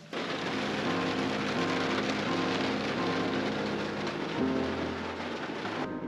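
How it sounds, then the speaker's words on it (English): Steady heavy rain falls overnight during a Honda Element road trip, a dense continuous hiss with low rumbling thunder rolling underneath, no voices. "it rained quite a bit last night"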